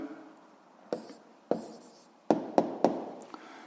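Pen writing on paper while noting the answer to a 7th-grade physics exercise, close and quiet, with a faint scratching bed and five or six crisp taps and strokes spaced irregularly.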